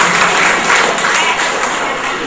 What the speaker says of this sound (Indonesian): Aplaus untuk Pak Guru dan Bu Guru